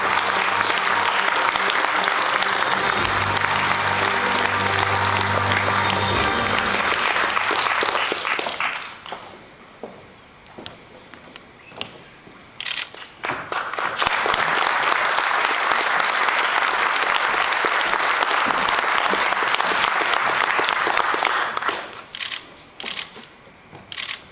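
An audience applauds Professor Jacek Jassem at the Dziennik Bałtycki Person of the Year ceremony, with camera shutters clicking. A dense burst of clapping fades, then a second long round swells and dies away.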